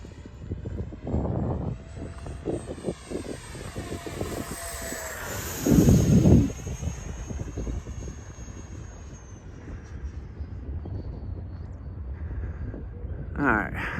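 An FMS 70mm Viper RC model jet with afterburner flies past, a high whining turbine hiss that sweeps in pitch as it passes and fades, with a loud gust midway and people talking nearby.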